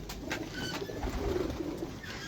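Teddy pigeons coo softly in a low, rolling murmur, a faint continuous cooing with no talk over it.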